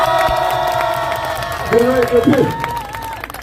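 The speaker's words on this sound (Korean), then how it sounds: "박수 한번 쳐주세요" A rally crowd cheers and claps beneath a loud speaker's amplified voice, with a short swell of shouts and applause in the middle of the speech.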